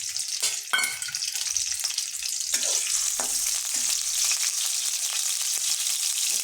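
Chopped onions drop into hot soybean oil and sizzle in a bright, steady hiss, with a few clattering stirs and thumps early on before the frying settles into an even roar.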